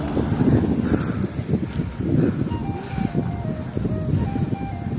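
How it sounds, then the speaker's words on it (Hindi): Cool wind blows steadily across the microphone at an open-pit mine viewpoint near Aakash Nagar, Bacheli, a continuous rumbling gusty noise with a faint tonal whine drifting in the middle. "बहुत ही सुहाना मौसम, ठंडी ठंडी हवा चल रही है"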